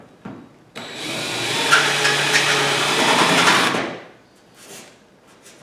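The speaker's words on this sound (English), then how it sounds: "I have a drill with a countersink." A drill with a countersink bit whirs continuously for about three seconds countersinking rivet holes, a close, steady high-pitched spin that winds down and stops.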